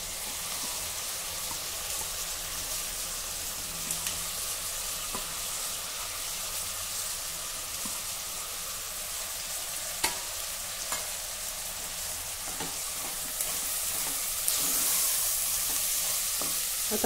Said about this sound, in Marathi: आता हा तांदूळ देखील 1-2 मिनिटांसाठी आपल्याला भाजायचा आहे